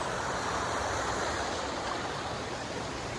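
River water flows steadily beside a hut, a dense, continuous rushing wash heard close and alone with no voices.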